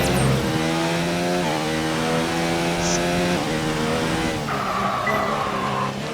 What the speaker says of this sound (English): Quit locking up the tires.